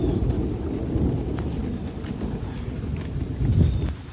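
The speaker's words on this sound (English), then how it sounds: "pouring down rain, there's a thunderstorm going on" Heavy rain pours down during a thunderstorm outdoors in alligator country, a dense steady roar with low rumbling swells and wind buffeting the microphone, no voices.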